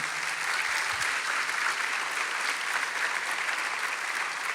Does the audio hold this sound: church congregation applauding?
yes